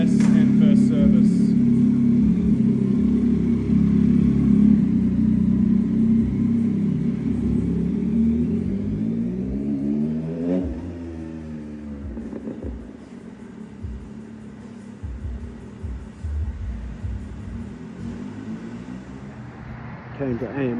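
2024 Yamaha MT-09 SP motorcycle on its first test ride after a recall service and ECU reflash, a loud rumbling engine with revving swells that eases off midway, with wind noise and a voice talking over it.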